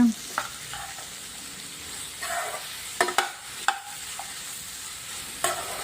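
Oil sizzles steadily in a pan as raw banana pieces fry, with a few sharp clatters of a spoon stirring and scraping the vessel.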